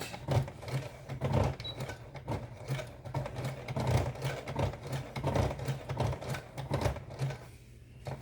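A home sewing machine labors through thick layers of denim while putting in a jeans zipper, a steady mechanical whir with rapid, uneven thumping as the needle punches through the heavy fabric.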